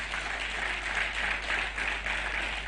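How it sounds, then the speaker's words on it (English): Conference audience at an EACO annual assembly applauding NCA, a dense, continuous wash of many hands clapping, steady and moderately distant throughout. "more round of applause for NCA,"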